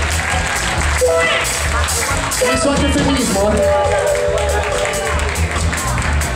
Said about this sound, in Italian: Un applauso alle donne che sono più riflessive degli uomini.